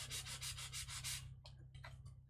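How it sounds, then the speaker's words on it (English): Rhythmic rasping strokes of sandpaper lightly sanding a wooden edge, several quick back-and-forth passes, then a few lighter scrapes, with a steady low hum underneath. "So I'm just lightly sanding that edge."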